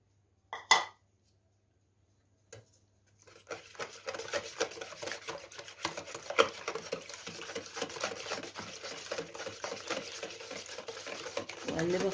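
Eggs with flour, spices and baking powder being stirred in a bowl for an egg omelette tray, a steady scraping, sloshing rhythm after a couple of brief knocks, close and fairly quiet.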